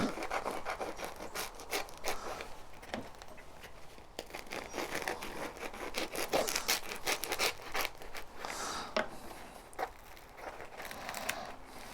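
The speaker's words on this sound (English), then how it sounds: "so I'm just gonna cut the baguette in two" A knife sawing through a crusty baguette to halve it for a bacon sandwich: repeated close crackling, scratchy crunches in irregular strokes, with crinkling crust sounds throughout.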